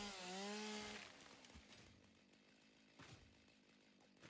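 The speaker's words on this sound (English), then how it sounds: "Chainsaw on here." Chainsaw cutting down trees in the factory-building video game Satisfactory: a faint, low buzzing rasp with a few soft knocks, after a brief tonal hum at the start.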